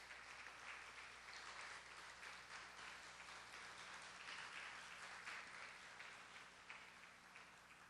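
A church congregation applauds steadily for several seconds, a dense even patter of many hands clapping at moderate volume.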